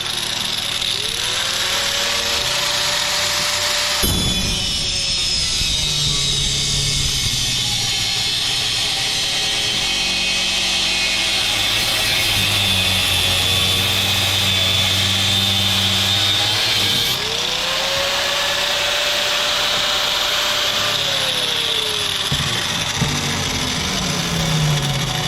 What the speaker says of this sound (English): I gotta cut all the way through the damn bolt